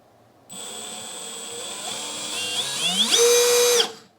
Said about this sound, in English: that was in hammer drill mode